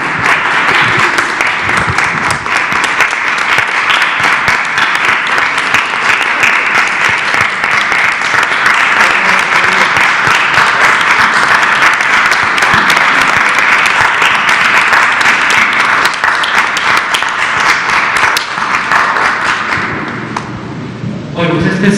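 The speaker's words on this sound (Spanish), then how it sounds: "con un aplauso expresamos un gesto de agradecimiento a todas las personas que están trabajando" Daily applause of thanks breaks out at a press conference, with a room full of people clapping loudly and steadily for about twenty seconds. It thins out near the end, and there are a few thumps and taps.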